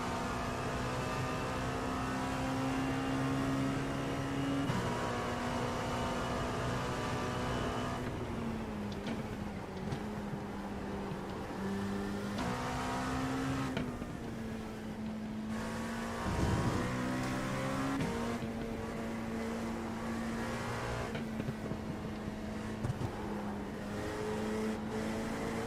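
Porsche race car in a racing video game, its engine droning and revving steadily throughout with shifts in pitch as it accelerates and lifts, loud and continuous with no talking.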